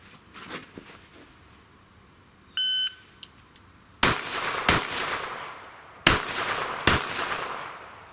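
Kimber K6s revolver fired on a pistol qualification course: a brief electronic shot-timer beep, then two pairs of sharp, loud shots about two seconds apart, each pair closely spaced, with faint crickets in the background.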